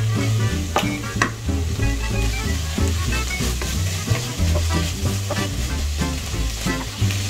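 Ratatouille vegetables simmering and sizzling in a pan, a loud, continuous close-up bubbling crackle with occasional clicks and stirring knocks.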